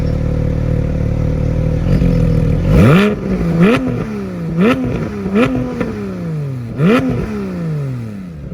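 A Porsche 718 Spyder flat-six with its exhaust flap open revs repeatedly, settling from a low idle into a series of sharp, loud blips that rise and fall, heard up close with no one talking.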